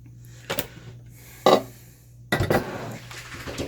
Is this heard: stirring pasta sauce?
yes